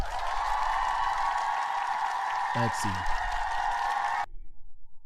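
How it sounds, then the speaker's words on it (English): A dense, steady applause sound effect fills most of the stretch, loud and even, then cuts off abruptly near the end, leaving only faint background; a brief voice briefly surfaces midway. "Let me hit the applause too."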